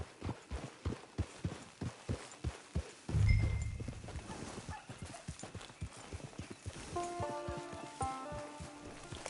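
Horse hooves clip-clop in Red Dead Redemption, a steady walking rhythm of distinct hoofbeats, then a snort and a soft musical cue with tinkling notes near the end.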